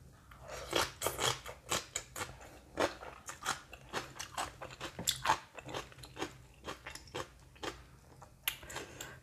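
Someone eats spicy Thai cucumber salad with raw shrimp, and the close crunching bites and chewing come one after another in a steady rhythm. No one talks over the eating.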